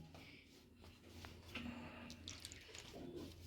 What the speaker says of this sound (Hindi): पानी इसमें हमें थोड़ा थोड़ा ही ऐड करना है